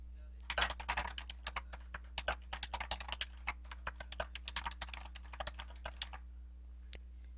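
Steady, close typing on a computer keyboard, with a rapid run of key clicks for several seconds, a pause, and one last keystroke, over a low electrical hum.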